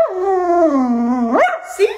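A dog gives a drawn-out, whining whimper that slides downward, then rises into a sharp yelp and a short yip, close and loud, with a brief spoken word near the end.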